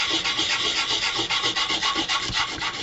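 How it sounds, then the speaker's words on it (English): Rough sandpaper is rubbed over an old plastic case of an HMV Nipper A13B radio, making a close, steady scratchy rasp in quick back-and-forth strokes with no talking. "So I'm just going to coarsen it off with some pretty rough sandpaper."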